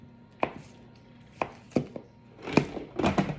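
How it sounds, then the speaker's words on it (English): A knife cutting a whole stick of butter into quarter-inch cubes on a board, with sharp separate chops, a few spaced apart and then a quicker cluster near the end, close and clear with no talking. "We're going to cut it up as quickly as we can."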